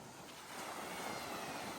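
Ocean surf washing steadily onto a beach, a continuous broadband rush of waves with wind, no voices.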